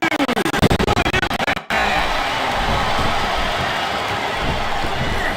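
A capacity arena crowd in WWE SmackDown vs Raw 2007 for PS2 sets up a loud, continuous roar. It follows a rapid pulsing rhythmic passage and a sudden cut, and it carries on as an even wash of cheering noise.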